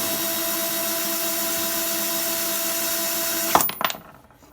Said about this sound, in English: this drill is saving me a lot of time